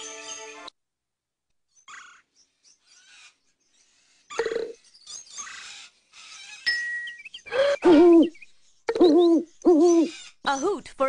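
Owl hoots from an educational detective video game, starting with sparse electronic blips and chimes, then several loud, wavering hoots in quick succession near the end.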